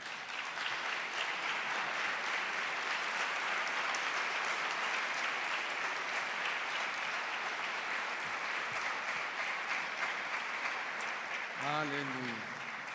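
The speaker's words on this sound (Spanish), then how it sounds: "Démosle un fuerte aplauso al Señor." A church congregation claps loudly and steadily for the Lord at a Spanish-language service, a dense sustained applause that holds for the whole stretch before easing near the end.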